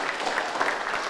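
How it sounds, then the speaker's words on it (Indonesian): A secondary school science class clapping their hands together: brief, dense burst of many hands applauding at once, moderately loud and fairly even across the moment. "tepuk tangan untuk diri kamu"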